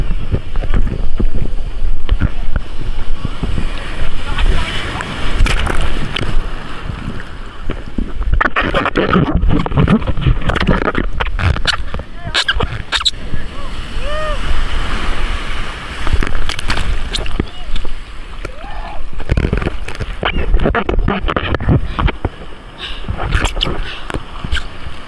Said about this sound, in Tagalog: sobrang lakas na ng alon